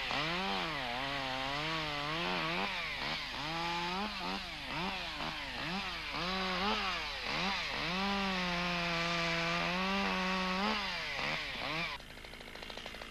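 A chainsaw revs and bogs in repeated surges as it cuts branches, loud and close, then drops to a lower idle near the end.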